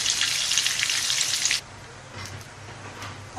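Cheese onion rings deep-frying in hot oil to golden brown, a dense bright sizzle for about a second and a half that then drops off to quieter crackling, with a few faint pops near the end.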